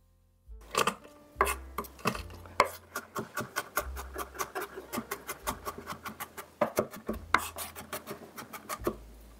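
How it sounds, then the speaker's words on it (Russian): A knife taps rapidly on a cutting board in a steady series of sharp chops, close and clear, with no talking, cutting garlic into medium pieces. "Средними кусочками режу чеснок."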